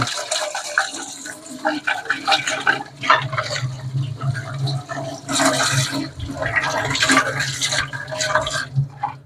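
Water from a tap runs and splashes over vacuum cleaner parts as they are rinsed, an irregular gushing that surges and fades in waves.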